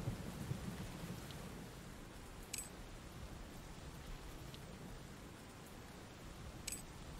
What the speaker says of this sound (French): Journée pluie sur Road to Eden.